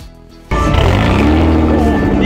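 A supercharged Toyota 1G 2000cc engine in a Toyota Crown idles, then suddenly revs up after a brief pause and holds a loud, rough, steady roar close by.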